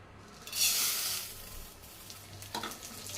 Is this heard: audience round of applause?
no